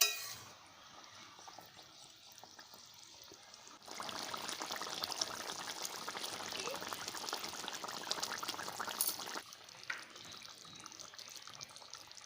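Bengali fish curry (jhol) with fish pieces bubbles in a pot. A soft hiss swells into a fuller, steady boil for several seconds, then drops back to a quieter simmer, close by.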